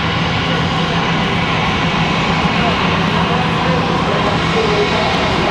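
An American Airlines jet arrives at Raleigh-Durham with a loud, steady engine roar, and a voice is faintly present under it.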